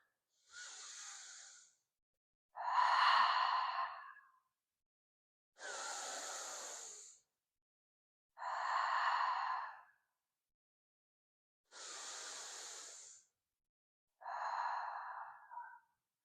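Three rounds of slow, deep yoga breaths, each a close, audible inhale followed by a longer exhale, separated by quiet pauses in a calm, still room.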